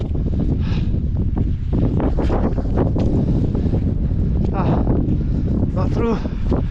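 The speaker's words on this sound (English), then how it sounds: "the wind becoming stronger" Strong wind buffeting the microphone on a wet, swampy mountain trail between Elidir Fawr and Y Garn in North Wales, a loud continuous low roar with gusts, and a voice speaking over it.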